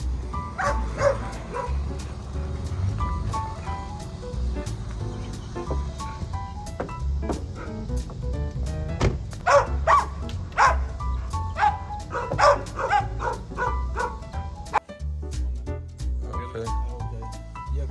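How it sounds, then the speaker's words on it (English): Several pit bulls bark repeatedly at a moderate distance, sharp overlapping barks scattered over a steady low rumble, with some yips mixed in. "Oh, bunch of barking mutts. But they're pitties"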